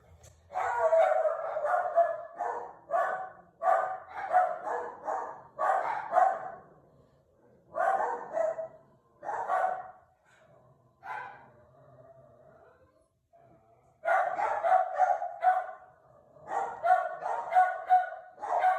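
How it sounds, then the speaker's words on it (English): Several dogs bark in repeated bursts indoors, loud and close, with short pauses between volleys and a quieter gap before the barking resumes. "Yeah, sorry about the dogs."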